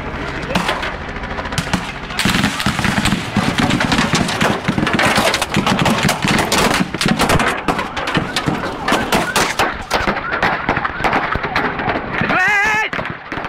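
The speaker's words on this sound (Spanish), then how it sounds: "se escuchan primero algunos tiros aislados y luego 9 segundos de disparos continuos de armas automáticas" A few isolated shots, then automatic weapons fire rattling continuously for about nine seconds, harsh and dense in a rough recording.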